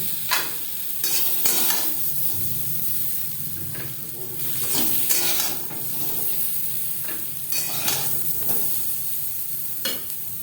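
Potatoes sizzle steadily in hot oil in a pan, with repeated scraping and clattering stirs over a hissing bed of frying, close by and fairly loud.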